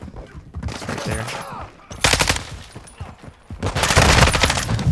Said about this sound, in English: I don't even know how you won that gunfight.